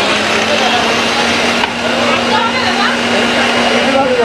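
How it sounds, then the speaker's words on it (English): A blender runs steadily while whipping up mango lassi at a busy Kolkata market stall, a loud continuous whir with a steady hum that nearly drowns the surrounding market noise. "Usually the blender would be very loud, but since it's already loud in the market"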